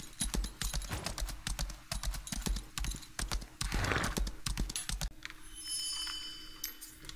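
A horse trots in the game Lost Ark, its hooves clip-clopping in quick rhythmic beats close by, with a brief whinny partway through and faint game chimes near the end.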